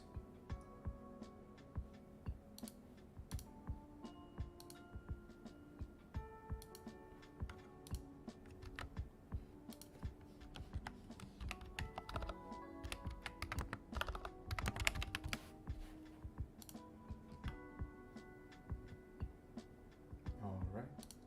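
Close, crisp clacking from a mechanical keyboard with MSA profile keycaps and stabilized keys, typed in an uneven stream with occasional louder key strikes.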